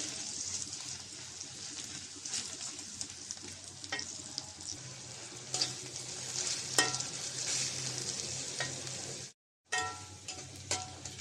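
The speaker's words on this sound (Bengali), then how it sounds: "পেঁয়াজ আর কাঁচামরিচটা ভেজে নেব" Chopped onion and green chilli frying in oil in a kadai, a bright continuous sizzle with occasional stirring clicks, briefly cutting out before resuming.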